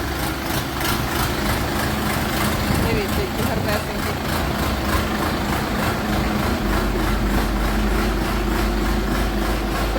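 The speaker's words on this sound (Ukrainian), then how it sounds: "Виганяємо тракторці на вулицю." A steady, low diesel tractor engine idles throughout with a constant rumbling drone, and a voice speaks over it.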